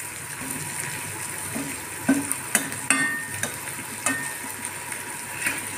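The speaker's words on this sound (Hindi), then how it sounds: "इसे प्याज के साथ अच्छे से थोड़ा सा फ्राई होने देंगे" Mushrooms and onions sizzle in a hot pan over a high gas flame with a steady frying hiss, broken by several clanks and scrapes of a utensil stirring.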